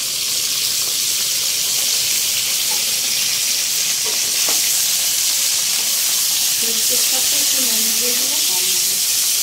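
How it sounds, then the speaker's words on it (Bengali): Continuous hissing sizzle of carrots, potatoes and capsicum frying in splattering hot oil, steady and close, with faint crackles and a brief muffled voice-like murmur near the end. "তেলটা যেহেতু ছেটকাচ্ছে"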